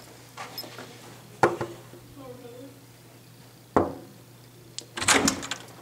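A hotel room door thuds shut, followed later by another sharp knock of the door and rustling handling noise, with quiet talk in between.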